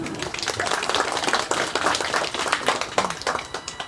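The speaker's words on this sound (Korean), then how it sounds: "박수 부탁드립니다" Steady crowd clapping fills the moment, a dense burst of many hands applauding with no voices on top, holding level for several seconds.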